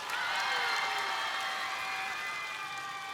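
A studio audience applauds singers on a televised music show, a sustained wash of clapping and crowd noise at moderate distance with no one talking.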